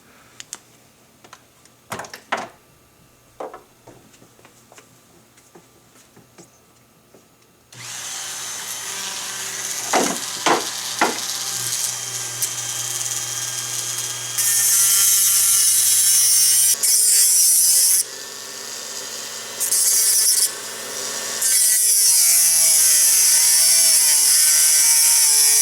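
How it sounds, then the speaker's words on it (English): A grinding tool works on the metal of a Troy TRX Alpha rifle rail, starting after some light clicks and handling noises, then running as a loud, sustained, harsh whine with brief pauses and changes in pitch. "So do a little bit of grinding on it and pop it off real quick."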